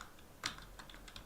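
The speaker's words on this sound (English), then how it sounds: "So let me type that." Computer keyboard typing during a live stream on market charts: a short burst of soft, close key clicks, one sharper tap standing out among quieter strokes, with no voice.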